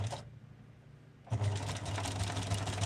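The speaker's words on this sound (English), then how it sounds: "I'm just going to sew down on the top for a little bit." A sewing machine stitches down the top of a piece, starting after a short pause into a fast, even mechanical whir with rapid ticking, close and steady.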